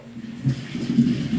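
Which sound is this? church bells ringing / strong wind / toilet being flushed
toilet being flushed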